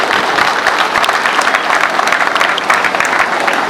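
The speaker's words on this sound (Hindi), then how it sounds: "फिर तुम्हारी तालियों की क्यों नहीं आ रही है?" A crowd at a public gathering claps loudly and continuously, a dense, sustained burst of many hands close to the microphone with no talking.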